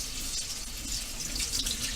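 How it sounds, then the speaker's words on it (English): Filtered tap water running over rice being rinsed, a steady hissing splash of flowing water at close range, continuous and even throughout with no talk. "I'm going to rinse that out with filtered water"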